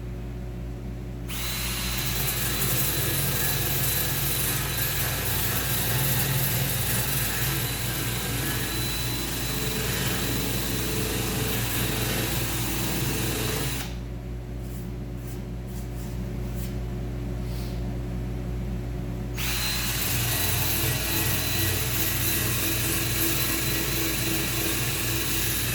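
An abrasive disc on a power tool grinds paint and rust off metal in a steady, loud, continuous whine that runs almost the whole time, briefly easing in tone partway through before returning at full strength.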